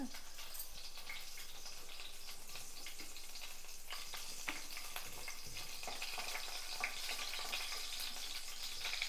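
Tomatoes frying in a pan for a tomato and cucumber chutney, a steady close sizzle with faint crackles and occasional stirring clinks throughout.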